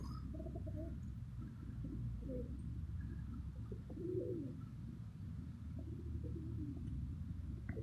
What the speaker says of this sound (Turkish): Burada da güvercinler var.